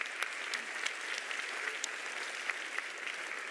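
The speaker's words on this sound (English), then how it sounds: "Big round of applause." A conference audience at a Chrome developer summit claps for quiz winners, a fairly soft and even wash of many hands, steady throughout, with no voices over it.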